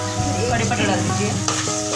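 A handful of curry leaves hitting sizzling Mangalorean chicken sukka with ginger garlic paste, a loud, close burst of frying hiss and crackle with stirring scrapes, over a faint tonal hum of music in the background.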